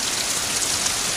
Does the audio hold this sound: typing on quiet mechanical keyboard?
no